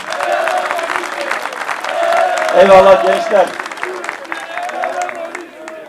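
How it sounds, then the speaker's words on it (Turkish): Applause from the audience at a Turkish political party's district congress in Menemen, a broad crowd swell that mixes with someone speaking over a PA and fades back under his voice. "İkisine de bir alkış istiyoruz"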